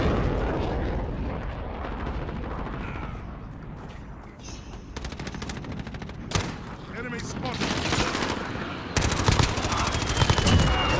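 Rapid bursts of automatic gunfire and explosions from the video game Call of Duty: Modern Warfare, loud and dense, with sharp cracks and booms layered over game noise, a voice talking intermittently.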